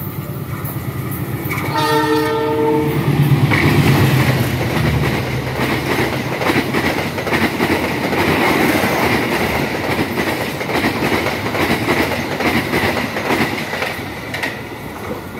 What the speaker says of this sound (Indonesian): kereta api Sawung Galih diberangkatkan kembali dari stasiun Terisi